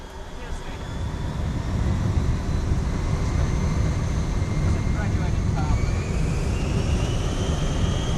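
Airliner jet engines spool up for takeoff in a radio drama, a loud steady roar with a slowly rising whine that builds and holds for several seconds.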